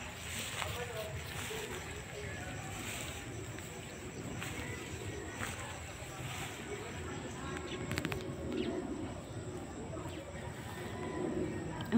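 Doves or pigeons coo outdoors in open countryside near grazing cattle, soft and intermittent over steady wind and rustling ambience, with a voice talking at times.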